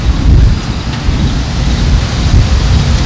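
Heavy rain pours over an outdoor cooking spot with a cast-iron Dutch oven while thunder rumbles low and continuous, a loud, dense wash of rainfall with no voices.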